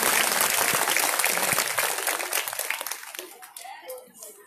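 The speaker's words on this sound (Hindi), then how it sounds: "जितना अच्छा आपको प्रसाद लगा उतनी जोरदार ताली बजाएंगे" An audience at a Bhagwat religious gathering in New Ashok Nagar, Noida, breaks into dense, loud applause that gradually thins into scattered claps, with voices murmuring as it fades.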